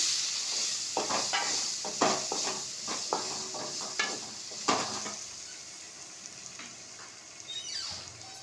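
Chepang kilangu tubers frying in a pan with a soft sizzle while a spoon stirs and scrapes in irregular clinking strokes, close and fairly quiet, easing off toward the end.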